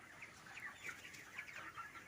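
Broiler chickens at a poultry farm on day 26 of rearing cluck softly in repeated short calls, faint and somewhat distant, with a low steady background and no talking.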